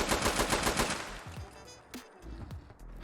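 An SKS rifle fires full auto from the hip in Fallout 4, a rapid burst of loud, tightly spaced shots for about a second, then a few scattered single shots and clicks.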